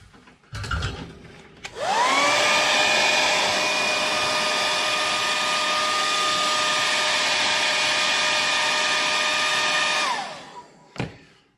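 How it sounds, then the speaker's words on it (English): A hair dryer blows steadily over a watercolor landscape page, switching on after about two seconds with a rising whine and running at an even, loud roar for roughly eight seconds before shutting off. "at this point, I'm just going to dry the page"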